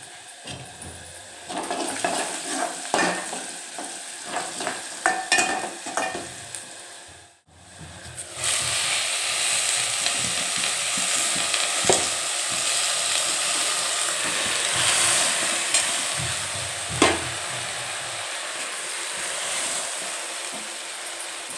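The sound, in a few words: amaranth leaves (thotakura) frying in a pan with chili and turmeric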